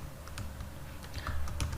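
Code typed on a computer keyboard: a brief, steady stream of light keystrokes, close and moderately quiet, with no talking.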